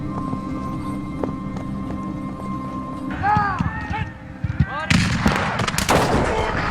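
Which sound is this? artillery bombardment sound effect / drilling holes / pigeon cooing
artillery bombardment sound effect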